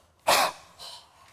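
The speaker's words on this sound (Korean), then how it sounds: "일종의 공기 기침." A person forcefully huffing out air in a silent, voiceless cough to push up phlegm, one strong breathy burst followed by a softer second exhale, close and clear with no talking.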